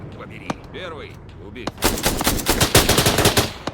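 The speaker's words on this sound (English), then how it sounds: "How did he not hear that guy shooting?" Rapid bursts of automatic and single-shot gunfire in the military shooter ARMA 3, loud and dense, opening after a quieter stretch with faint tonal game sounds and one isolated early shot.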